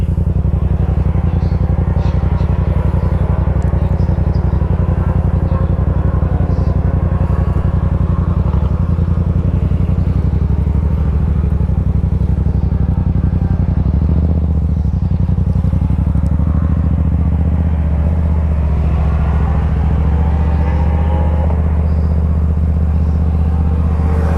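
Racing motorcycles roar through turns 1 to 3 at the Barber racetrack during a MotoAmerica event, a loud, continuous engine drone with shifting revs across the whole stretch.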